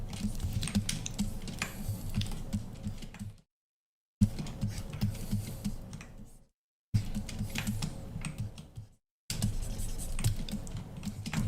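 Computer keyboard typing during a Blender 3D modeling session for a Clash of Clans barbarian, including a backspace key press. Close, busy clatter arrives in four bursts separated by short silences, with no talk.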